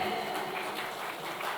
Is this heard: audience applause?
yes